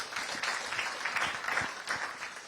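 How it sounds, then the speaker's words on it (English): Faint applause from an audience at a national science and maths quiz championship launch, a soft scattered clapping wash with a few distinct claps, heard from a distance. "Please give them a round of applause."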